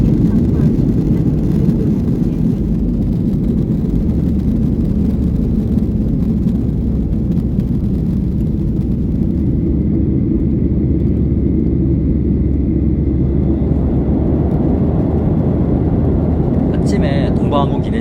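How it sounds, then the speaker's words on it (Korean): A China Eastern Boeing 737 departing Kunming airport, heard from inside the cabin as a loud, steady engine roar and rumble that holds throughout, fading slightly near the end, with a voice speaking over it. "비행기는 호치민으로 출발합니다"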